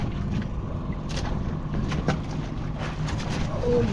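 A boat's steady low engine rumble runs throughout, with wind and water noise around it and faint splashes now and then.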